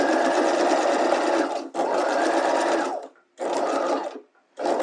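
A sewing machine stitches a dart in fabric, running in three loud, close bursts of rapid, even stitching, with brief stops between them.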